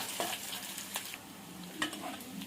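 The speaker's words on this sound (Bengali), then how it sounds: "পেঁয়াজটা তেলে একটুখানি ভাজা ভাজা করে নেব" Chopped onion frying in mustard oil after a cumin tempering, a soft, even sizzle with a few light stirring scrapes, fairly quiet and uninterrupted.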